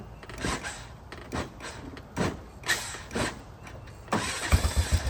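A Honda Foreman ATV engine being kickstarted, several short cranking bursts in a row before the engine catches and briefly runs with a rough idle, close and fairly loud.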